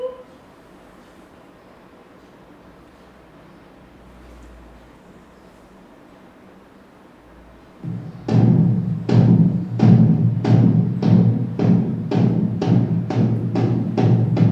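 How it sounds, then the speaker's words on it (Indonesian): After a quiet stretch, a bedug, a large Indonesian drum, booms in a steady series of about a dozen deep, resonant strikes, evenly spaced and loud. "itu adalah bunyi beduk."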